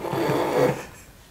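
A person gives a long, drawn-out yawn, a breathy vocal groan close to the microphone that swells and then fades away during a podcast conversation.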